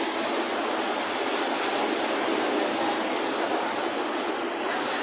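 Gentle sea waves at low tide at Mirabelle Beach Resort make a continuous, even wash of surf noise, steady and moderately loud with no distinct breaking crashes.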